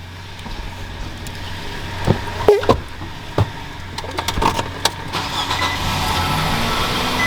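An SUV engine cranks and catches with a few sharp bursts, then settles into a low idle rumble.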